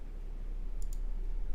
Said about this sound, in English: you begin to hear kind of clicking sounds in the dark